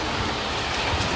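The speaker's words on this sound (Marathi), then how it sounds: "कडाडत धडाडत पाऊस आलाय" Heavy unseasonal rain pouring steadily outdoors, a dense, continuous close wash of noise with no distinct thunderclap standing out in this short stretch.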